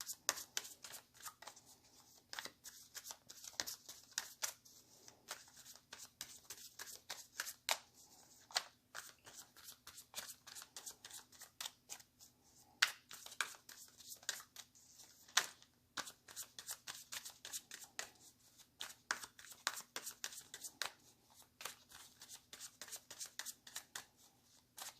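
A deck of tarot cards is shuffled and cut in a quiet room, with dense, riffling bursts of card flicks and slaps continuing steadily and close up throughout, with no voices.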